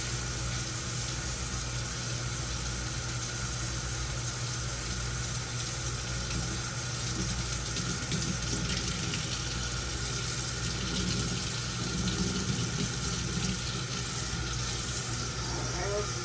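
Tap water running steadily into a container at a sink, a continuous hiss and splash that holds for the whole stretch without pause.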